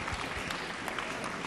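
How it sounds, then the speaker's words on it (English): Quiet audience applause at the opening of a debate tournament, thanking a guest: faint, steady clapping that sounds somewhat distant and lasts only briefly. "round of applause"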